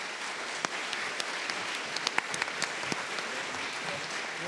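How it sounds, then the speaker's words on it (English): A round of applause from the audience at a lakeside water summit meeting, a soft, even wash of many hands clapping with occasional sharper claps standing out near the microphone. "give them all a round of applause"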